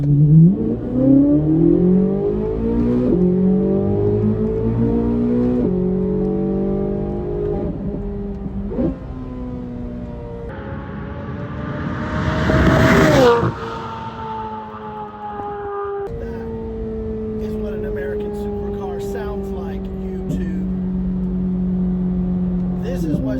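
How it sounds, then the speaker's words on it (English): A powerful naturally aspirated V8 engine of a C8 Corvette Z06 revs repeatedly, climbing and dropping in pitch, then surges to a loud, high-pitched roar before settling into a steady drone. "It is the most powerful, naturally aspirated V8 ever put in a production car."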